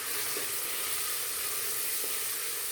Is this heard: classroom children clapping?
no